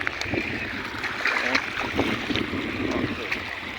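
Floodwater rushes after heavy rain over flooded paddy fields, a continuous churning, splashing flow heard up close with someone talking over it.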